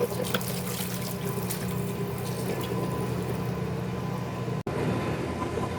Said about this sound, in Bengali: এগুলো এখন ধুয়ে নিব